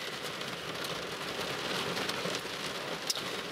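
Rain pours steadily on a car during a thunderstorm chase near Ingolstadt, a dense patter of drops on the surface with a few sharper hits, continuous and fairly close for several seconds, with no talk.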